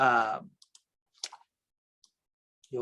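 A computer mouse clicks a few times while files are handled in a file manager. The clicks are sparse, crisp and close, with brief bits of a voice at the start and end.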